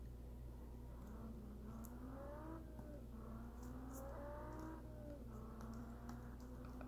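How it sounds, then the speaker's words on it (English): A car's engine revs in a video game test drive, a faint, rising and falling whine repeating every second or so over a steady low hum, with scattered keyboard clicks. "I also like to do a little bit of a test drive with the car just to see how well it performs"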